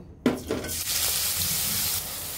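Small shrimp drop into about one and a half tablespoons of oil in a wok, giving a sudden sharp sizzle that settles into a steady, close frying hiss.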